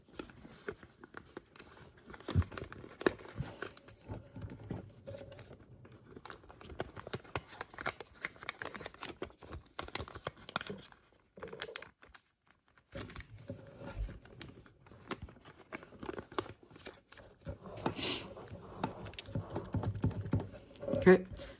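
Sheets of paper are creased and folded into an origami jet's tail fins, making a long run of close, dry crinkles and taps with a short quiet gap midway.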